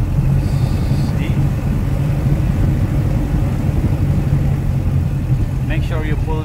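A Diamond DA 20 aircraft engine runs steadily after start-up, a loud, even rumble at low idle with no change in pitch, and a brief voice near the end.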